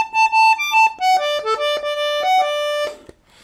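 A sunburst Harmona Weltmeister 20-button Anglo concertina in A/D with single reeds plays a quick run of bright, reedy notes, each pressed note clearly separated, ending in a short fade.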